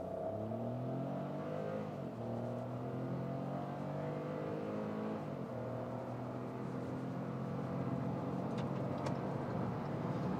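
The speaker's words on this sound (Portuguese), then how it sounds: "Vamos estolar e vamos acelerar tudo" A compact sedan launches at full throttle onto a highway during a 0–100 km/h run. The loud engine note climbs repeatedly in pitch, with two gear shifts breaking the rise, and no one speaks.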